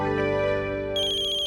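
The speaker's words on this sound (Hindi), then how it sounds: "रुक्मिणी बहन का फोन है।" An incoming call sets off a phone ringtone, a loud, steady electronic melody playing close by with a shift to a brighter tone partway through, with no voices.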